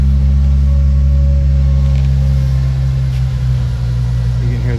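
A 1994 Nissan Skyline idles shortly after a cold start, a loud, even, close-up engine drone holding steady throughout.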